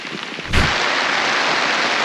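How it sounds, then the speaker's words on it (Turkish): A sudden thud gives way to a dense, steady hiss of heavy rain pouring down on a garden, close and loud. "Vallahi yağmur bastırdı."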